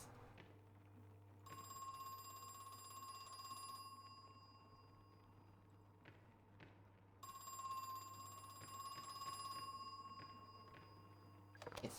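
An old-fashioned telephone bell ringing in the horror video game Crow Country, two long metallic trills separated by a pause, over a low steady hum and faint background sounds.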